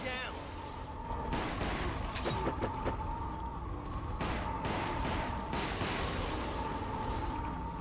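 Gunfire in the video game Resident Evil The Umbrella Chronicles during a train derailment level: repeated loud shots and bursts crackle over a dense, continuous background of game sound.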